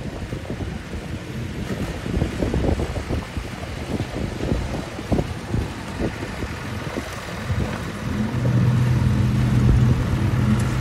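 A single-cylinder return flue Huber steam traction engine races at a tractor rodeo, giving a continuous outdoor rumble of rhythmic chuffing with wind buffeting the microphone, and a steady tonal hum building toward the end.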